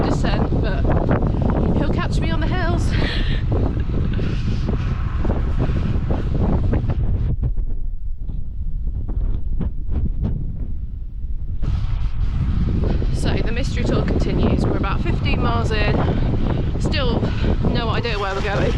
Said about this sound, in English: Bit breezy.